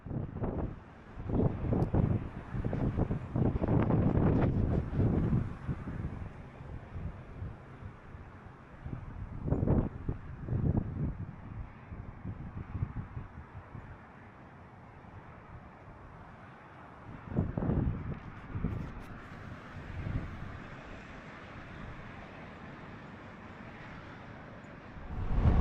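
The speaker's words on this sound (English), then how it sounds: "That wind. I feel like I've been in a wind tunnel. It's really moving." Strong wind gusts buffet a microphone outdoors at Davis Camp along the river in Arizona, roaring in repeated heavy bursts that swell and fade, with calmer stretches between them.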